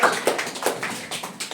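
Schoolchildren in a classroom clap in quick, rhythmic bursts of sharp claps, close and fairly loud, with no talking.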